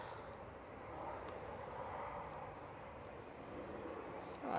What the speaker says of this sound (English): Got a few planes coming out.